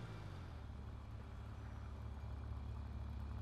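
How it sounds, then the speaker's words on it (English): A fully upgraded four-stroke motorcycle engine in GTA 5, a steady, loud, low droning hum holding constant throughout with no voices. "And it sounds beautiful as well. Four stroke noise."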